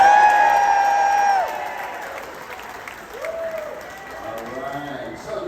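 A cruise ship audience aboard the Discovery Princess claps and cheers for the crew, with loud applause and whoops at first. The crowd noise fades under sustained tonal sounds and a voice later on.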